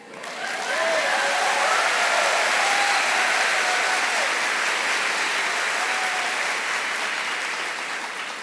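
A large audience gives loud, dense, sustained applause that swells quickly, holds steady with scattered cheers, and tapers slightly toward the end.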